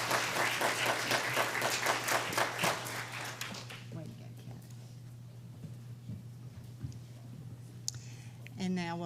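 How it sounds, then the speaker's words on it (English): Applause from an audience at a school awards ceremony, moderately distant, with a burst of clapping that fades into softer scattered claps and room murmur. "So give her a round of applause."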